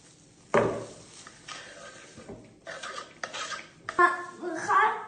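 Chopped greens and vegetables are tipped into a container with a sudden clatter, then several scraping and knocking sounds of utensils against the dish, close and moderately loud.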